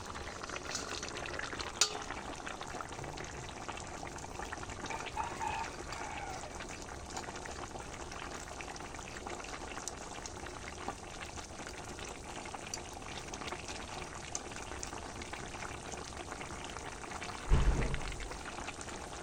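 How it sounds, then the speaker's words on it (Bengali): Fried small fish go into a simmering sour curry with potatoes, giving a steady bubbling and liquid wash throughout, with a brief louder splash and clatter near the end, and no talking. "এবারে আমি ভেজে রাখা মাছগুলো দিয়ে দেবো।"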